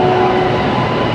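A passenger train pulls into a station on the Pune to Mumbai route: a loud, close mechanical rumble with a thin sustained whine, lasting only a brief moment.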